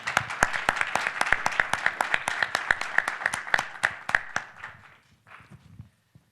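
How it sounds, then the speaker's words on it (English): Modest audience applause for a panel on Italian advanced manufacturing, with distinct, fairly sparse claps in a steady rhythm that thin out and fade to quiet after about five seconds. "Could we please give them a round of applause?"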